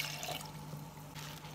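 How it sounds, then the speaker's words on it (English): Filtered water pours steadily into a blender jar, a continuous close trickling splash with no talk. "This is filtered water."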